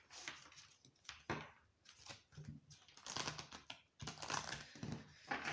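Lenormand cards shuffled by hand during an astrology reading, soft irregular riffling and clicking bursts close up, quiet and uneven with short pauses and no talking.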